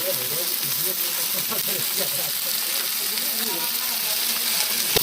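Wasp larvae frying with tomato in a pan make a steady, close sizzle and hiss that runs the whole time, with soft stirring scrapes and a voice talking over it.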